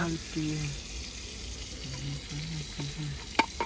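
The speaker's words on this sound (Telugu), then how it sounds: "మనం డైరెక్ట్ ఫ్రై చేస్తున్నాం కాబట్టి చాలాసేపు పట్టింది." River shrimp fry directly in a pan with a steady crackling sizzle and some stirring, while voices and tonal sounds come and go over it.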